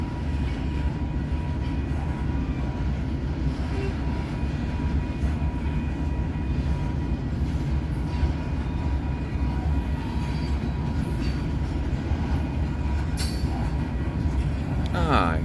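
A freight train hauling former KCS hopper cars rolls past close by, a steady, loud rumble of wheels and car bodies that holds without pause for the whole stretch.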